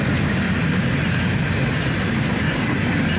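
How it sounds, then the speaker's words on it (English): Freight train locomotives, including an SD70MAC and Canadian Pacific power, approach near a rail yard, a steady loud rumble with rolling wheel clatter filling the whole span, no voices. "Here come the locomotives."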